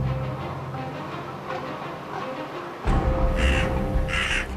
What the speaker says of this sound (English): A pair of crows have taken exception to their larger corvid cousins.